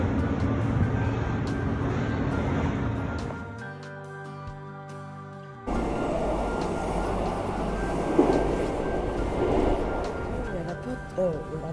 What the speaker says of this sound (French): on va prendre le RER